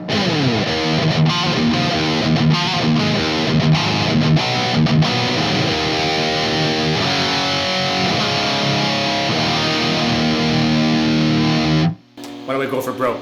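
Heavily distorted electric guitar played through an EVH 5150III LBX high-gain amplifier, with dense chugging riffs and sustained chords for about twelve seconds before cutting off abruptly into noisy hiss.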